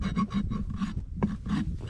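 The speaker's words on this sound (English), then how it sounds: "I'm using the soft part of the rasp" A rasp filing a horse's hoof during a barefoot trim, a series of short rhythmic rasping strokes, close and fairly loud, with brief pauses between passes.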